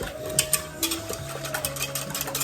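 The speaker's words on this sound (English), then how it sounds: "So we're gonna keep whisking it here." A thickening sauce is whisked by hand, quick light clicks and taps of the whisk against the pot in an uneven rhythm, close but fairly quiet.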